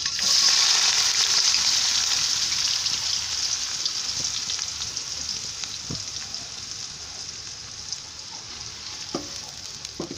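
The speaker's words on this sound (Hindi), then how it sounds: "2 मिनट और प्याज को भूनेंगे" Two medium onions sizzling in oil in a pan while cooking a wadiyan curry, a steady bright crackling hiss that starts loud and slowly eases, with occasional small pops and no talking.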